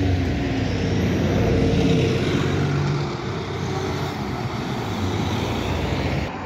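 Road traffic beside Carshalton Ponds in London rumbles past in a steady, loud wash, with one car's approach swelling and then easing slightly.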